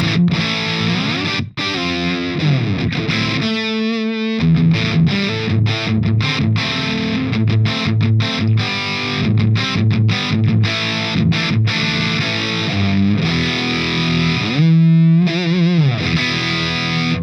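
An electric guitar plays through a Flattley Outlaw dual pedal's thick, fuzzy Plexi-style overdrive, with sustained distorted chords and notes and a few brief pauses.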